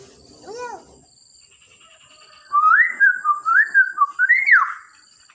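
A talking beo bird whistles: one short rising-falling whistle, a pause, then a close, loud string of looping, gliding whistles in quick succession.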